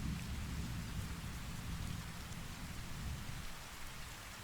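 Steady, dense rainfall pours down continuously with low rumbling thunder rolling underneath, a relaxing storm ambience with no voices.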